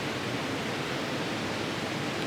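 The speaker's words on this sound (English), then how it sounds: "Big waterfall off to my right, you can hear that." A big waterfall on Barren Creek in the Sawtooth backcountry roars off to one side, a steady, dense, broadband rush of falling water that holds constant throughout without any voices over it.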